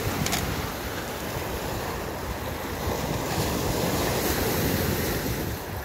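Lake Michigan waves breaking and washing onto a rocky shore, a continuous roaring surf with wind buffeting the microphone, steady and fairly loud throughout.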